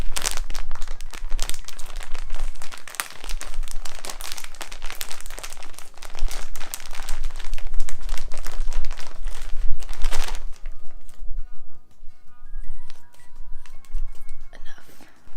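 Flakes tipped into a homemade shake, giving dense close-up crinkling and rustling for about ten seconds, then a quieter stretch with faint scattered ticks.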